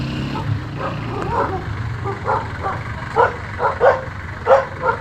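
A dog barks in short bursts several times, a few sharp yips standing out over a low steady background rumble, moderately close.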